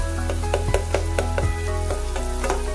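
Onions frying in oil in a pan for a Gobi Manchurian sauce, a steady close sizzle with a rapid series of clicks and taps from stirring, over a constant low background hum.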